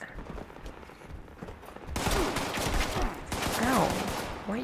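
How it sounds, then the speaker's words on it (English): Bursts of automatic rifle fire crack in a Fallout game battle against a scorchbeast, quieter shots at first, then louder, denser volleys after about two seconds, with whooshing effects mixed in. "why are you shooting me?"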